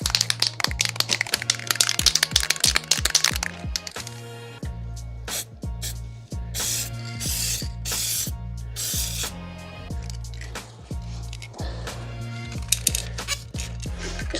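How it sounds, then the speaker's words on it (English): A spray can applies silver paint through a stencil onto an R34 Skyline intercooler, sending short, hissing bursts over a steady musical beat. "Just a thin spray to begin with."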